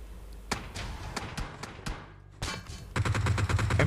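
Gunfire in a battle royale video game, with scattered single shots followed by rapid automatic bursts. The shooting is sharp and fairly distant, grows denser toward the end, and plays without talk over it.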